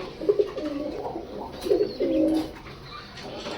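Pigeons kept in a cage at a pigeon house coo in low, rolling bursts, close and fairly loud, with a faint rustle in the background.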